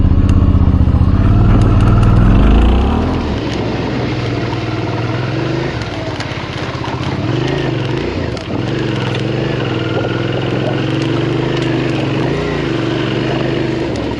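A stripped-down adventure motorcycle under way, its engine giving a steady, loud, continuous drone with slight rises and dips in pitch, a little heavier at the start, and no talking.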